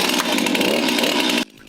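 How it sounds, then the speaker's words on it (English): A chainsaw cuts into wood for carving, loud and continuous at full throttle, then the noise drops off abruptly near the end. "had been chainsaw carving for a short amount of time"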